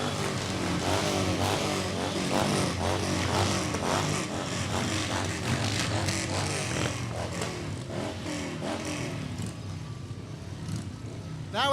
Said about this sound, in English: riding and having fun on Harley-Davidson motorcycles